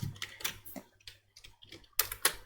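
Code being typed on a computer keyboard: irregular bursts of crisp key clicks, close and fairly quiet, with a couple of heavier strokes near the end and no talk.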